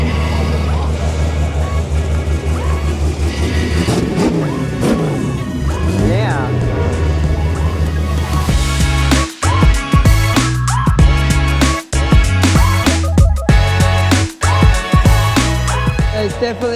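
A race car engine at the Bathurst 1000 meeting roars and revs loudly as it passes, a sustained throaty drone with rising pitch sweeps, then sharp blips and gear changes, with a voice talking over it.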